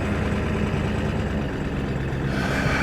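A cold diesel plow truck engine idles steadily at close range, a continuous low rumble with a slight shift in tone toward the end and no talk.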